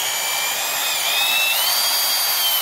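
Adjustable torque screwdriver driving a fastener, a steady high-pitched motor whine with a faint rising tone, continuous and close with no talking.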